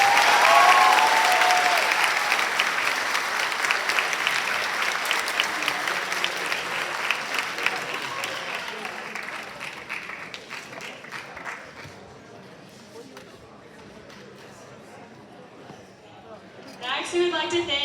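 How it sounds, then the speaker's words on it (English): Audience at a church conference event applauds loudly at first, the clapping gradually thinning and fading over several seconds, with crowd chatter and a brief swell of noise near the end. "one last round of applause."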